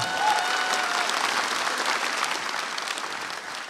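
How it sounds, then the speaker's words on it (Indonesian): A comedy show audience applauds continuously, dense and even clapping that slowly eases toward the end, with no talking over it. "Tepuk tangan buat keempat Mas Indonesia."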